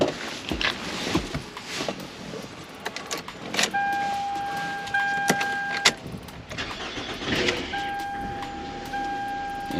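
2008 Toyota Camry with a newly replaced starter: keys jangle and clunk, warning chimes sound twice, then the engine cranks and catches, settling into a low idle close by.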